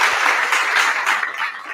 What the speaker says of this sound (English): Let me give y'all another round of applause